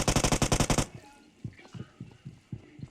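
DP light machine gun in the BGMI mobile battle royale game firing a rapid burst of about ten loud shots, followed by softer rhythmic thuds and clicks; no talking.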